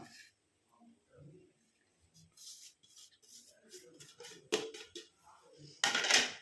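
Powdered mustard and fried onion-peel powder are stirred together in a container, giving soft scraping and light clinks of a spoon against the vessel, faint and intermittent with a couple of sharper knocks near the end.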